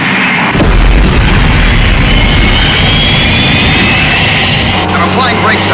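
Jet airliner engines roaring loud and close in reverse thrust, a dense sustained blast that swells after a brief onset and holds steady throughout, with a voice speaking over it.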